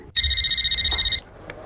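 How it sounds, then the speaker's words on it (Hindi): On an outgoing call, a telephone rings once through the earpiece, a single bright electronic burst lasting about a second, followed by quiet room noise. "तब तक मैं रोहन के ऑफिस फोन करके उसका नंबर ले लेती हूँ"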